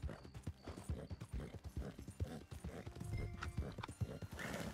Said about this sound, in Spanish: El caballo inútil.